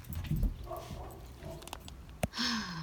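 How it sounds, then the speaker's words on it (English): A dog barks a few times somewhere in the background, muffled and at moderate distance, with one sharper bark near the end over room noise. "That's confirmed by that dog barking."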